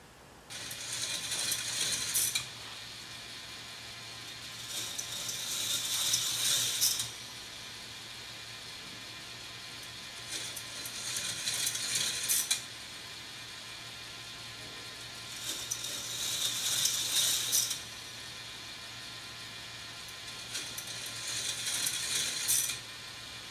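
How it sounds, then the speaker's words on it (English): Motorized chain lift on a K'nex roller coaster, clicking and rattling in repeated bursts of a few seconds each, separated by quieter stretches with a low motor hum underneath. "I then added a motor and chain lift, which I will show in detail a little later."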